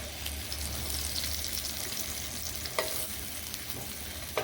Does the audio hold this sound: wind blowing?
no